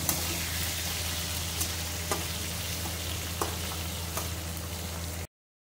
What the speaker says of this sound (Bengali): এবারে একটু ফ্রাই করবো একটু।